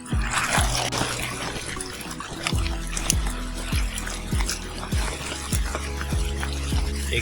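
Clear water trickles and drips in a rain-fed forest stream, with repeated splashing drops over a continuous gentle flow, heard up close.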